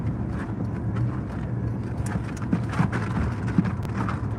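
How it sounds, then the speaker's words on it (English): Steady rhythmic clicking of a car's turn signal over a low engine and road rumble inside a vehicle. "that turn signal you hear, that is me turning into my job site"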